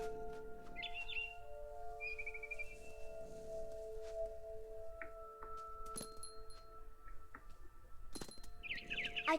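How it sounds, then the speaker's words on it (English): A barn swallow chirps in the video game What Remains of Edith Finch: short bright tweets come in scattered bursts over a quiet ambient bed of steady sustained tones. "Then I heard chirping outside my window. It was a barn swallow going back to her nest."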